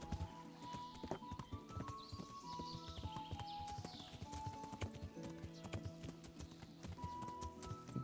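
Horse hooves clip-clop steadily in the medieval video game Kingdom Come Deliverance, a fast regular trot that stays close throughout, with a brief whinny and game music or ambience underneath.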